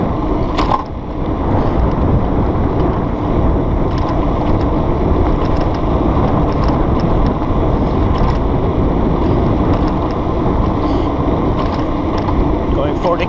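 Steady, loud wind rush and broadband road roar from an Emmo Urban S electric scooter riding downhill at about 40 km/h, continuous for the whole stretch with faint rattles on top.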